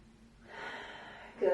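A steady, drawn-out breath during a creative rhythmic vinyasa yoga flow, rising softly into one long airy exhale, then ending in a sharper, louder intake at the close.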